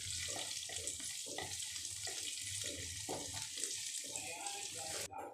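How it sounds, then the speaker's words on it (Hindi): Green chillies and 8-10 curry leaves sauté in a pan over a low flame, giving a soft, steady hiss with low murmured talk over it before a sudden break at the end. "अब हमें इनको 20 से 30 सेकंड के लिए सौटे कर लेना है।"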